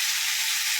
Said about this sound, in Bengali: একটুখানি লাল লাল করে ভেজে নিয়ে তারপরে খিচুড়ির মধ্যে দিয়ে দেবো